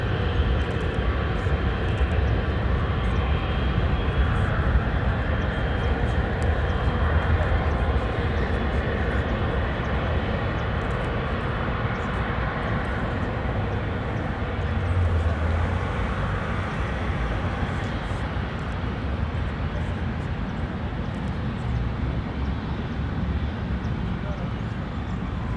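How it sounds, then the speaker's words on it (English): A Singapore Airlines Boeing 777-300, 13 years old, takes off at Los Angeles International Airport bound for Tokyo Narita, its engines a steady, loud broadband roar that holds for the whole stretch, with talk faintly over it. "So it's taking its flight now to Tokyo Narita International Airport."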